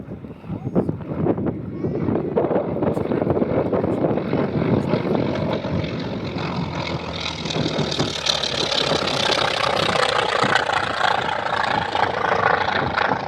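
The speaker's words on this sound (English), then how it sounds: "Nice photo passes from our pair of T-28s." A pair of T-28 trainer aircraft make photo passes at the Midland, Texas airshow, their radial engines droning loudly and steadily with a rising, then receding roar buffeted by wind across the whole stretch, and faint voices beneath.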